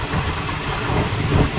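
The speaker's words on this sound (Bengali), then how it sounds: "এখান থেকে ট্রেন বেশ ভালো স্পিড নিয়েছে, প্রায় 80-90 স্পিডে ছুটে চলেছে" Malda-Howrah Intercity Express running nonstop at about 80-90 km/h, a steady broadband roar of wheels and carriage noise heard from inside, loud and continuous with no voices.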